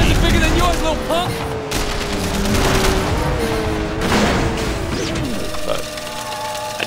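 Sleeping Dogs video game gunfire over a busy game soundscape: repeated shots and bursts mixed with crashes and a voice shouting in the game.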